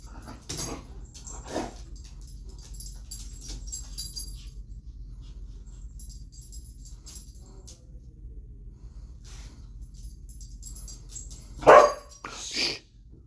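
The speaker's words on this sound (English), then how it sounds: "No barking. No barking." A dog gives several scattered barks and a yip, near but fairly soft, with a louder burst of barking toward the end against a quiet indoor background.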